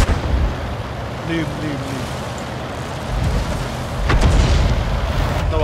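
A Sherman tank cannon fires in a World of Tanks battle in a city setting, a dull boom under game noise and a Thai-speaking voice, with heavier rumbling toward the end.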